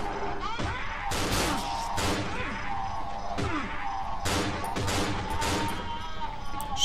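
Gunshots ring out in the horror video game Cry of Fear, several sharp loud bangs spaced irregularly amid impacts and game noise.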